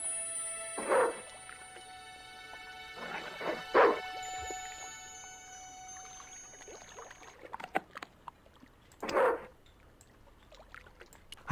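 A dog barks in the Broken Sword 2 video game, set in a kitchen: three separate loud barks spaced across the stretch, with quieter game ambience and small clatters between them.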